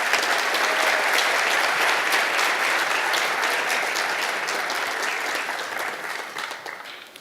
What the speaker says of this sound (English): Let's give all of our administrators another round of applause.